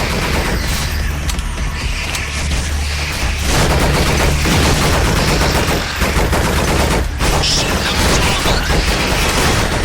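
Continuous rapid gunfire and bursts of shooting in the horror video game Nightmare House, set in a hospital, with booms and mechanical clatter layered throughout, loud and dense from start to finish.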